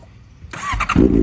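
A 2015 Honda CBR650F with a full titanium Daivo exhaust cranks over and fires, building into a loud, close engine roar after a brief quiet start.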